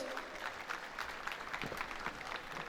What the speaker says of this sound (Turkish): Öğrencilerimizi alkışlarla yerlerinize uğurluyoruz.